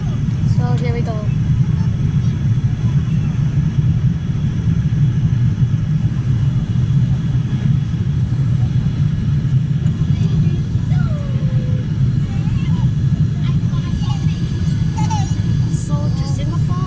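Cabin noise aboard a Singapore Airlines Boeing 787-10 on landing approach into Singapore: a constant, loud low engine and air rumble fills the cabin, with faint chimes and murmured voices over it.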